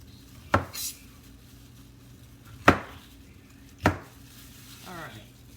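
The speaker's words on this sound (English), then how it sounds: "I hope you're chopping along with me here" A knife chops food on a cutting board in a home kitchen, three sharp separate knocks spaced a second or two apart, close and fairly loud, with a quieter scrape at the end.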